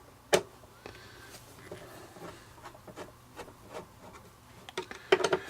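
Small screws on a Seagate hard drive being loosened a few turns with a screwdriver, giving faint, sparse scraping clicks and rubs at close range, with a couple of sharper ticks near the start and end.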